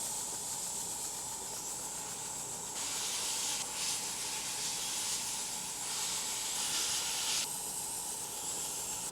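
A hair steamer filling with steam gives a steady, close hiss that holds for the whole stretch, swelling slightly louder in a few spots, with no voices over it.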